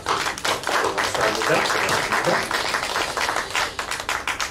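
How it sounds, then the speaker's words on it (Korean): A church congregation claps in welcome during a Sunday service, a dense, steady patter of many hands filling the space, with a voice speaking briefly over it. "우리 다 같이 함께 기뻐하는 마음으로 환영의 박수"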